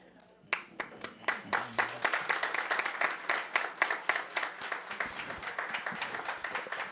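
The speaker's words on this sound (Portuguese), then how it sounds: "Muito obrigado pelas palmas." Round of applause during an ordinary council session, a room of people clapping in quick, distinct claps that begin abruptly and continue steadily at moderate volume, with some voices underneath.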